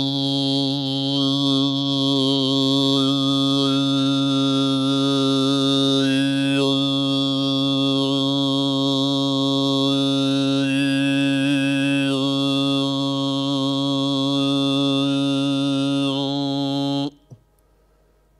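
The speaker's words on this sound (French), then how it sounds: "l'effet fait que le sifflement diphonique passe légèrement en arrière sur le plan sonore, mais il garde une certaine importance" Mongolian khöömii overtone singing: a steady, loud vocal drone holds throughout while a bright diphonic whistle shifts pitch above it. The voice cuts off abruptly near the end, leaving near silence.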